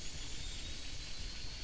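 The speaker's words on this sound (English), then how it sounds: "This noise you are hearing is the power being supplied to all components." Steady electrical power-up whine and hum in a helicopter simulator game, a continuous even drone with a thin high tone on top, constant in level and alone.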